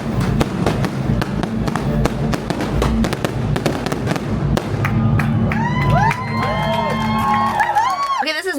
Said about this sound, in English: there will be a whole section dedicated to seeing the fireworks